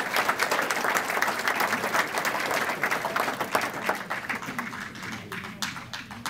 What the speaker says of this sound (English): could we have a nice round of applause for Mr.